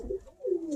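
A pigeon gives a single short, soft coo close by, a low warbling call with a slight dip partway through.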